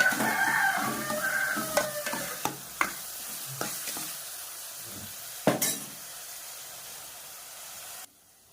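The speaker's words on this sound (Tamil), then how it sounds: "இப்போ மறுபடியும் நல்லா கிண்டிடுங்க. நல்லா வதங்கட்டும்." Onions sautéing with salt for beef chukka hiss and sizzle steadily in a pan, broken by several sharp scrapes and knocks of stirring, close by, before cutting off abruptly.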